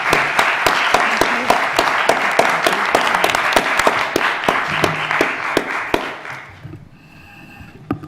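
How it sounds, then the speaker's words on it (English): A conference audience at an aviation policy panel gives sustained, dense applause for the panel members. It is loud and full for about six seconds, then thins out and fades. "I'd like you to all give a big round of applause to our excellent panel members"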